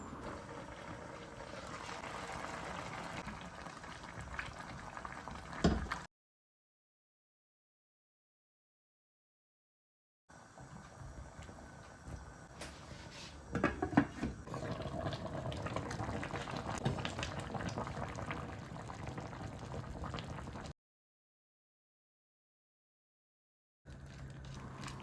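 Tomatoes with bay leaf, cloves and other whole spices bubble and simmer in a pot, a steady soft bubbling that stops twice and briefly returns near the end.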